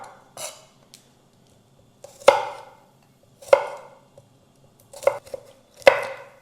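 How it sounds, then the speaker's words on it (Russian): Garlic being chopped with a knife for pickled green tomatoes, about six sharp, close knocks at irregular intervals, each with a short ring, and quiet pauses in between. "Вот так мы измельчили чеснок"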